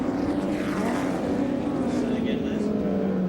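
A Nissan touring car racing at Calder Park in 1987, its engine a loud, steady drone whose pitch slowly falls across the stretch.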